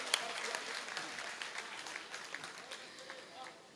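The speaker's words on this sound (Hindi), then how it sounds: "एक बार जरा जोरदार तालियां बजाओ" Applause from the audience at a Hindi poetry recital, a steady patter of clapping that stays fairly faint and distant, with a louder burst near the start and no voices heard.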